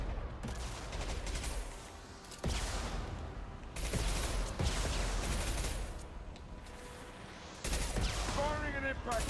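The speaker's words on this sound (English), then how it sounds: "Firing an impact shot." Impact-shot gunfire in the Mass Effect video game: several loud bursts of shooting separated by brief lulls, layered over dense battle noise, with some speech mixed in.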